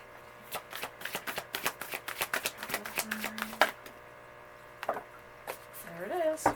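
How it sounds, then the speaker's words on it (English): A deck of cards shuffled by hand, a quick run of crisp riffling snaps and slaps, then a few scattered taps as the cards settle, with some background talk. "Let me just get them shuffled up a little bit."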